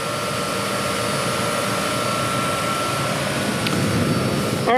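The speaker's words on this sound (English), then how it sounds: "There's your air conditioner" An outdoor air conditioner unit runs behind a house in The Villages, Florida, producing a steady, loud, unbroken fan-and-compressor drone throughout.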